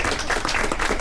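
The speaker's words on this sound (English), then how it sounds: "Let's keep that round of applause going" An audience applauds at a live cooking demonstration, with steady, dense clapping that holds through the whole brief moment.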